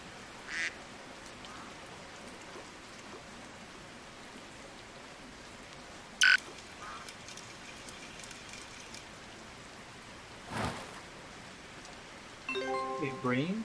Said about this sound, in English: But rain kind of makes it difficult to see the float.